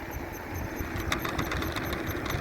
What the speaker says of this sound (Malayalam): ഒരു ഡെലിവറി ബൈക്ക് വരുന്നുണ്ട്.